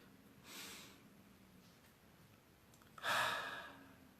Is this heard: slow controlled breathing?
yes